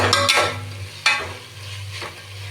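Coriander and mint leaves sautéing in a pan for chicken biryani, a soft sizzle under a low steady hum, broken by three brisk scraping stirs, close and without speech.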